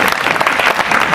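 Dense audience clapping at a live comedy show, loud and close throughout a short burst.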